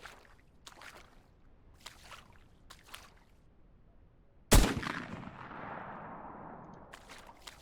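In a duck-hunting game, a single loud gunshot booms once from close by, then rolls away in a long fading echo. Faint scattered ticks and splashes come before it.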